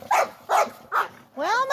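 A small dog yaps four times in quick succession, close and sharp, the last bark stretching into a higher whining yip.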